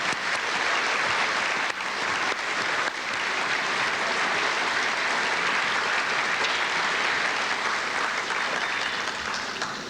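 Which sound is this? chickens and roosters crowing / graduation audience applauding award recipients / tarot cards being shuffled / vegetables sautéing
graduation audience applauding award recipients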